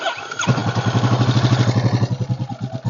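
A free ATV engine with its choke on catches after a brief crank and settles into a loud, close, rhythmic chugging idle that keeps running steadily.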